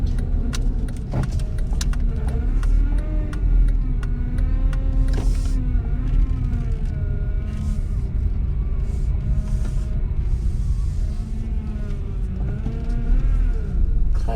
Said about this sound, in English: little bit of gas with the clutch to the bite point and go over the bump